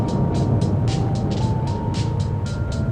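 A Volkswagen Touareg TDI runs flat out across a dry lake bed, its engine and wind roar forming a loud, constant drone inside the cabin, with faint repeated ticking over it.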